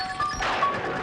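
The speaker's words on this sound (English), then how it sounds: "he jumps on a car, right, and he smashes the car window." A car window smashed in a horror film scene: one sudden crash of breaking glass, loud and close, then a short scatter of debris over steady background noise.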